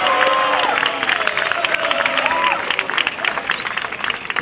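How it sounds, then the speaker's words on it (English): Audience at a football banquet applauds and cheers, a steady wash of clapping with scattered voices and shouts in the room. "Give him a big round of applause."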